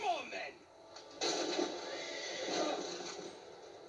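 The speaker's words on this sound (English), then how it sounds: "Washington shot his horse." A horse whinnies in Assassin's Creed III Remastered during the Braddock Expedition, a shrill neigh at the start followed by a sustained noisy commotion, with game voices and battle sounds underneath.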